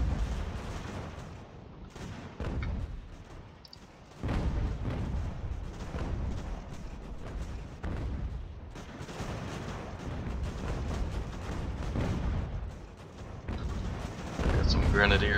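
Cannon fire from a 12-pounder artillery piece in the Ultimate General: American Revolution strategy game, with repeated loud booms and rumbling blasts amid dense battle noise across the whole stretch.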